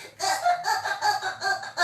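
A high, thin voice mimics a tiny baby's babble in several short bursts, close and clear with brief pauses between.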